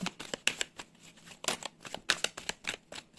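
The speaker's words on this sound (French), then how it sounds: "Je vais tirer la carte" Tarot cards being shuffled and drawn from a deck, a run of crisp papery riffles and flicks in irregular quick bursts, close and fairly quiet, with no voices.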